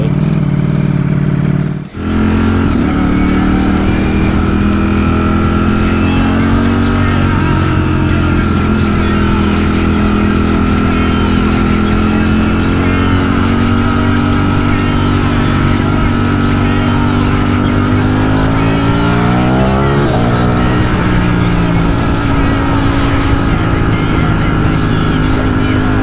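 A Ducati Streetfighter motorcycle engine drones steadily at speed for a long stretch, pitch rising and falling as it accelerates, loud and close.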